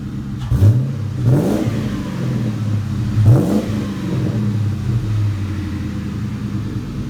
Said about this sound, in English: I'm going to give it a rev while she's holding the camera so you can listen to hear what it sounds like.